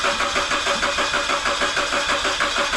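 A car engine cranks repeatedly without catching, a rapid, even churning of the starter that stays loud and close throughout, no talking.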